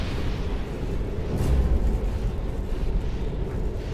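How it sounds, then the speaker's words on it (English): A deep, rumbling air blast from an asteroid exploding in the atmosphere, a documentary sound effect: a sustained roar swelling briefly at mid-clip, then continuing as a heavy low rumble. "It doesn't even have to make it to the ground before you have a huge explosion."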